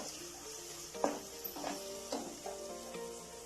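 Onion and ginger sizzle softly in a pan for a chicken biryani, with a steady low frying hiss broken by several scraping stirs as the mixture is turned, heard close and fairly quiet.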